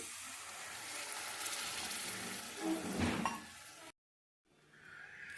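Soaked tamarind water hits a hot pan of fenugreek-leaf dal, giving a loud, steady hiss and sizzle that rises briefly, cuts out for a moment, then resumes more softly.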